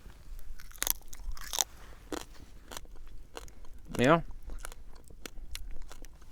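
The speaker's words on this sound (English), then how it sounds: "Make sure you chew the bones." Blackened rattlesnake meat and bones crunched between the teeth up close, with repeated sharp crackling bites and chewing over a few seconds and brief talk in between.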